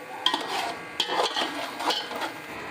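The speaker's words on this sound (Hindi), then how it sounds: "ये 2 चम्मच डालेंगे और इन तमाम मसालों को मिक्स कर लेंगे।" Spoon stirring Hyderabadi pulao spices together in a pot, with sharp metallic scrapes and clinks against the pot at an irregular pace, close and fairly quiet, with no talking.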